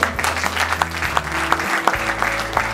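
Guests at a mayor's reception in Le Gosier applauding local associations, a loud, lively burst of many hands clapping with distinct individual claps standing out over a low hum.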